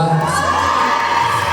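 Fans at a mall stage event in Hong Kong cheer and shout for a game contestant, a brief, loud burst of mixed voices and children's yells.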